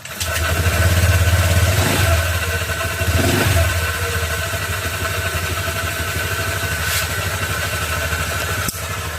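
A motorcycle engine starts up and settles into a steady idle, its low rumble loud and close throughout with a brief rise near the start.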